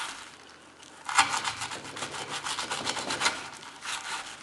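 Steady back-and-forth rasping of a VG-10 steel Spyderco Delica knife blade sawing into wood, a quick run of scraping strokes close up, with no talking.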